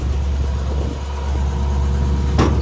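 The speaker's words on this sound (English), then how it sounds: "it's got a set of glass pack mufflers and sounds great." A 1957 Chevrolet Bel Air convertible's V8 idles steadily through dual exhaust with glass pack mufflers, a loud, close, even rumble with a brief sharper burst near the end.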